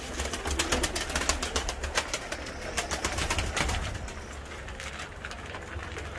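Pigeons coo repeatedly in a soft, steady chorus close by, with a faint rustle of wings and background noise throughout.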